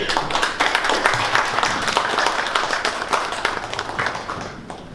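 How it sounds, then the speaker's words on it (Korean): Scattered applause from an audience welcoming a speaker at a Korean university presidents' summit, a moderate burst of clapping that gradually thins and fades toward the end. "박수로 맞이해 주시기 바랍니다"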